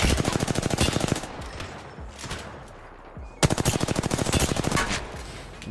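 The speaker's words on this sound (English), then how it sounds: "Holy snipers, can we chill out with the snipers?" Rapid gunfire in Apex Legends, two loud bursts of closely spaced shots with a lull of fainter shooting between them, more like automatic fire than single sniper rifle cracks.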